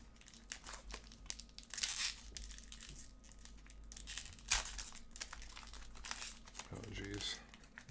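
An Unstable trading card booster pack wrapper being torn open, a close crinkling and tearing that runs through the whole stretch, with a voice speaking now and then.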